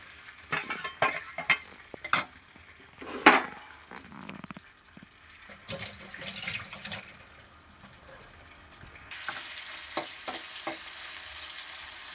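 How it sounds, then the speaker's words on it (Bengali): Tomato and onion fry in goat fat with ginger-garlic paste, giving a crackling sizzle broken by bursts of stirring and spoon scrapes, close and moderately loud, with a brief watery pour near the middle. "ভেজে দিয়ে দেবো একটু টমেটো পেঁয়াজ।"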